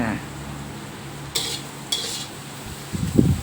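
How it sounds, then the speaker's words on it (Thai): Bitter melon, egg and chili stir-fried with oyster sauce and sugar in a pan: a soft steady sizzle under two sharp spatula scrapes and a low clatter near the end, close up, with no talk. "เราก็ผัดให้เข้ากันเลย"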